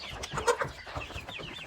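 Dominant and Wyandotte chickens clucking softly nearby, several short overlapping calls in quick succession with no talking.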